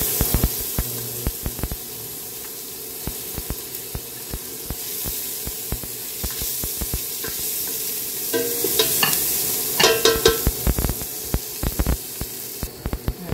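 Garlic sautés in a hot pan, with a steady sizzle under repeated clicks and scrapes of stirring that grow louder and busier toward the end.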